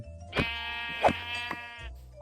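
Sheep in Minecraft bleat in a couple of clear, wavering calls close up, with small clicks between them and no talking.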